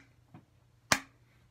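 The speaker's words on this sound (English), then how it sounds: "I call this the clapping." A single sharp hand clap rings out close by, preceded by a faint softer tap, then quiet.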